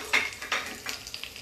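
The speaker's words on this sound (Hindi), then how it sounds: "I am gonna put curry leaves because ये क्रैकल होती है" Curry leaves and green and dried red chilies crackle in hot oil for a tadka, giving a few quick spitting pops over a faint sizzle, close and without any talk.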